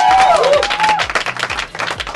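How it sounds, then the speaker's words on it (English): A school graduation-style crowd for a class of 2012 cheers and applauds loudly, dense clapping and shouts filling the space with a steady roar that dips near the end. "Why is Maka getting quite a big cheer there?"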